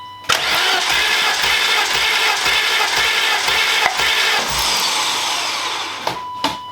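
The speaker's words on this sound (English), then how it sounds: "Now you're going to take your key, go inside, and start cranking, probably 5-6 seconds." A BMW E36 325is engine cranks over steadily on the starter during a compression test, a continuous near whirring drone running for about six seconds before cutting off, with no speech.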